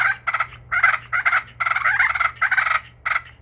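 A push pin turkey call worked by hand to imitate a turkey, producing several short bursts of close, loud gobbling clucks with brief pauses between them, alone over a low background hum.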